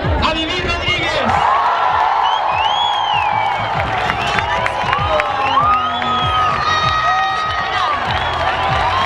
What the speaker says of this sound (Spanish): quiero que le demos un fuerte aplauso a Vivir Rodríguez